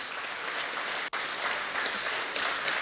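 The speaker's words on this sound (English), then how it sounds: "Please, can we put our hands together again for Mr. President?" A conference audience applauds the President of Nigeria with a dense, continuous wash of clapping. It drops out for an instant near the middle and then carries on at full strength.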